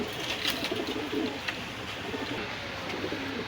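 Teddy pigeons kept at a bird sale coo softly and repeatedly in a low, fairly faint murmur with no speech.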